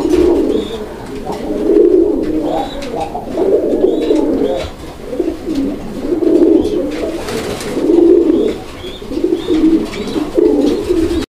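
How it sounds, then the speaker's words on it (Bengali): Fancy pigeons kept for sale, including magpie pouters, coo in repeated soft, throaty rounds at close range. A few faint high chirps are mixed in, and no one speaks. "বন্ধুরা আমরা এই মুহূর্তে দেখতে পাচ্ছি এখানে আরো এক জোড়া কবুতরের কালেকশন রয়েছে।"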